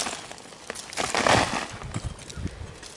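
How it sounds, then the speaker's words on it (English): Crumbly winter compost is chipped out of an above-ground bin onto a blue mat, giving a few soft scraping and crumbling rustles that build to a brief louder scrape, close up and without talk. "I'm going to chip this out onto that blue mat so I can see what it's doing."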